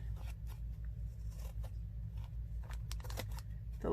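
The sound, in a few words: scissors trimming paper for a junk journal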